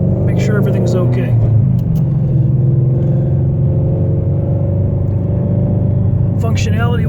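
The engine of a 2016 Ford Shelby GT350 runs at a steady, deep rumbling idle, loud and close, while people talk over it at the start and end.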